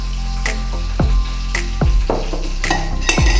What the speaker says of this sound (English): Going to mix it up.